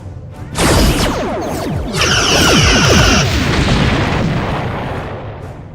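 Starship weapons fire and explosions in a Star Trek space battle, a loud dense roar of blasts and booming impacts with a whining energy burst in the middle, all fading into a rumbling tail.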